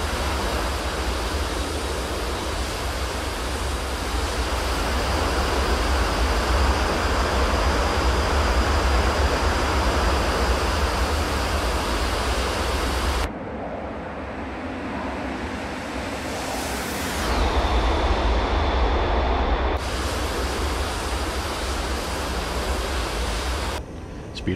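Steady, loud roar of an F-86 Sabre jet in flight in the DCS flight simulator, a continuous broadband rush with a brief dip and whine in the middle before the full roar returns.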